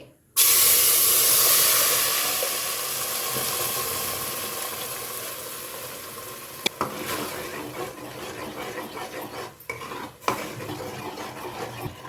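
Ground masala tipped into hot coconut oil in a clay pot for Mangalore-style mackerel pulimunchi, bursting into a loud steady hiss that gradually settles, with a few clinks of a utensil against the pot near the end.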